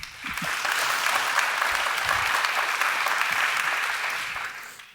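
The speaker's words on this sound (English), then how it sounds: "Give them all a round of applause, please." Audience applause for a panel of economists and speakers at the Global Solutions Summit 2023, a steady, dense clapping that fills the room for about five seconds and then stops abruptly.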